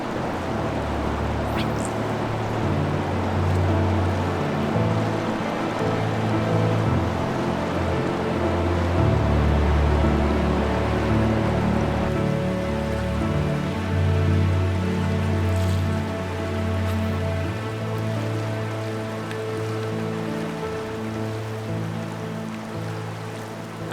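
Winter river rapids on a trout stream rush in a dense, continuous roar of churning water, steady and fairly close, with no voices.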